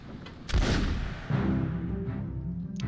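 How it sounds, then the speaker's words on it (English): A single gunshot in the game Obra Dinn as a man shoots himself in the chest: one loud, close crack with a long rumbling decay, followed by a second heavy thud and lingering low resonance. "He just shot himself in the chest."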